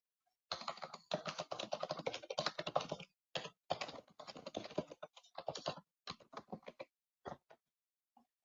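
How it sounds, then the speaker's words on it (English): Typing on a computer keyboard, quick close bursts of keystrokes broken by short pauses and trailing off into a few scattered taps. "Let me go ahead and type that into the chat box."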